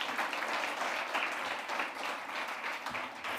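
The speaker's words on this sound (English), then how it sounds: "Let's give him a round of applause," Audience applause for a speaker at a human rights dialogue event, a steady, full wash of many hands clapping that holds evenly throughout with no talk over it.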